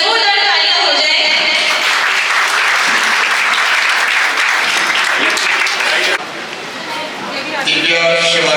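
A crowd at an award ceremony honoring a freedom fighter breaks into loud, sustained applause, with dense clapping for about eight seconds and tonal sound or voices mixed in at the start and end.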